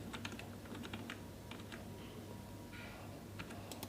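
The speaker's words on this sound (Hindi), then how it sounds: "ये वाले प्लस दबाएं कीबोर्ड से" A computer keyboard clicks as keys are typed in short irregular bursts, quiet and close, with a faint steady hum underneath.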